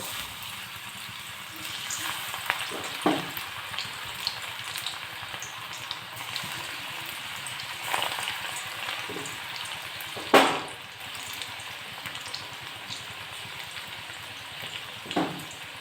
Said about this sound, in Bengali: একটি একটি বড়া আমরা ভেজে নেব।